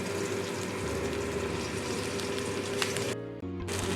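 Onion paste frying in hot oil in a pan, a steady, moderately quiet sizzle with a brief dip near the end.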